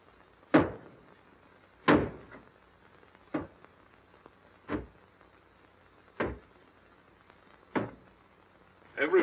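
Heavy blows strike a door as it is being broken down in a 1938 film: seven loud, evenly spaced thuds about every second and a half, nearby, with a quiet gap between each one and no talk.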